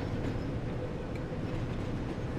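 A Class 08 diesel shunting locomotive in Train Sim World 2 rumbles steadily at close range, a continuous low engine drone with faint rail clatter and no pauses.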